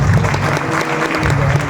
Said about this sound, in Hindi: उस जीत के लिए एक बार जोरदार तालियां।